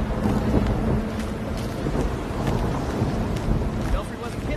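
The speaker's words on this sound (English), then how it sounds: "Belfry wasn't kidding about this storm." Stormy weather in the superhero video game Gotham Knights: a dense, continuous roar of wind and rain with low rumbling, loud and unbroken, and a voice is faintly present under it.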